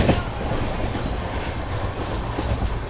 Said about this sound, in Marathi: आपली गाडी मेन लाईन थेट पुढे जात आहे